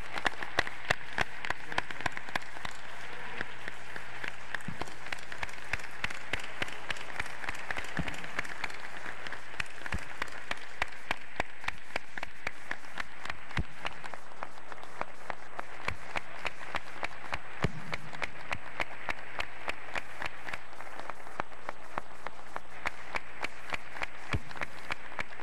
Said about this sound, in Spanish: les demos un fuerte aplauso a todos nuestros invitados